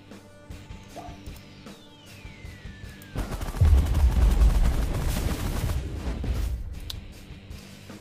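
Weapons fire in The Last Federation space game: a falling whistle, then a heavy burst of booming blasts and crashes that swells loud and slowly fades, with scattered sharp clicks.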